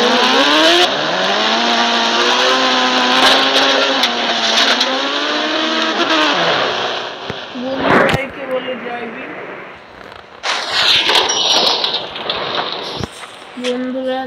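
A scooter engine in the Indian Bike 3D video game whines and revs, its tone rising and falling as it drives, then gives way to scattered bumps and bursts of noise.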